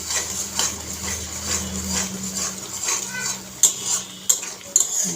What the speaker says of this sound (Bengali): এখন সবগুলি নেড়ে মিশিয়ে নেব।